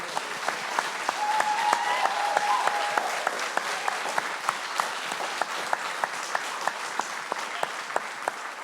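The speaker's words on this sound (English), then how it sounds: "how about a big round of applause for the organizers?" An audience at a festival applauds its organizers with dense, sustained clapping, with a few sharper individual claps standing out in a regular beat, and no speech over it.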